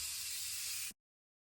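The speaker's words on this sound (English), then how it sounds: "And then my favourite setting spray will hopefully bring back some of the glow on that side." Morphe Continuous Setting Mist sprayed onto a face: one close, steady hissing burst of fine mist lasting almost a second, then it cuts off abruptly into silence.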